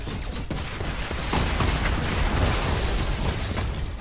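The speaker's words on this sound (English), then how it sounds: "he used the impulse grenade" Impulse grenade going off in a video game, a dense roaring blast that swells and sustains as a continuous loud rumble with crackling bursts over a few seconds.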